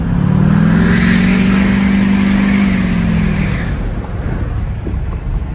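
LML Duramax diesel pickup truck fitted with an Airdog lift pump, engine running steadily with a loud, close rumbling drone that eases off near the end; no talking.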